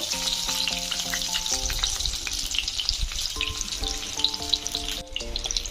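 Cashews fry in ghee in a kadai with a steady, close bubbling sizzle, while a melodic tone plays faintly through the background the whole time.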